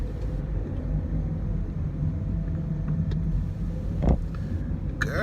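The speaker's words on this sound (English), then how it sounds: "Girl, it's so much traffic." Road traffic makes a continuous low rumble, with vehicles passing nearby and a brief louder swell near the end; no one talks.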